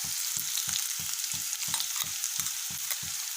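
Onions fry in a pan with a steady, close sizzle, broken by regular rhythmic scraping strokes of stirring about three times a second.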